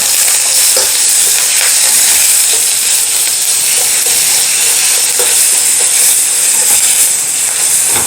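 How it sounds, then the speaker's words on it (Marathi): Ginger-garlic paste sautéing in a spoonful of oil in a pan, a loud, steady, close hiss of frying that continues unbroken throughout. "आल्ला आणि लसणाची पेस्ट थोडीशी परतून घेऊ"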